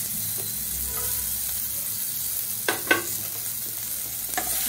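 Boiled potatoes frying in ghee in a pan for sabudana pulao, a steady close sizzle with a few sharp stirring scrapes late on, no voices.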